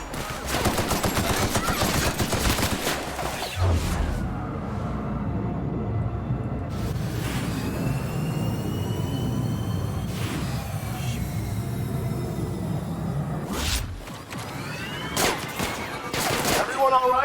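Sustained gunfire from a firefight in The Outer Worlds, with dense rapid bursts and volleys rolling on for the whole stretch at steady loudness, briefly dipping before another heavy burst near the end; voices occasionally talk underneath.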